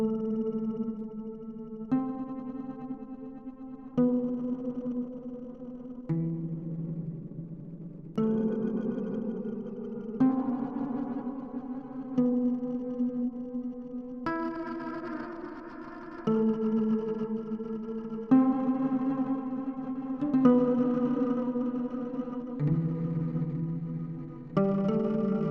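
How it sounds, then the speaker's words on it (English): Granular reverb built from tiny fragments of an instrument's own sound, washing over a sequence of sustained tones that shift in steps every couple of seconds, with airy echoing tails blending each note into the next at a steady, moderate level. "designed to make reverbs out of those tiny fragments of the instrument itself"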